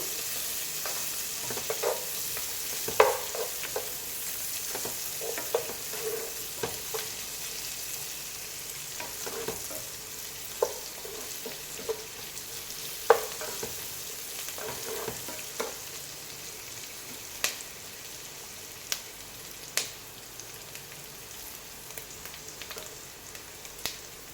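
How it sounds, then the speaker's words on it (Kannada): Masala frying in a pan for paneer dum biryani, a quiet continuous sizzle with scattered soft clicks and occasional spoon taps across a long stretch, no voices. "ಚೆನ್ನಾಗಿ ರೆಡ್ ಕಲರಲ್ಲಿ ಫ್ರೈ ಆಗಬೇಕು."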